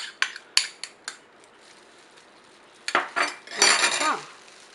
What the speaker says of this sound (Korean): 살살 버무려 줍니다.